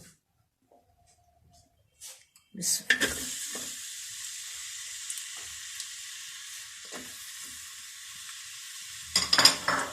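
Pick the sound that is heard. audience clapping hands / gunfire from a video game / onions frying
onions frying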